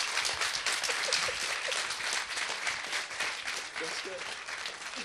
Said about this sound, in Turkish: Alkışlar mıyız lütfen?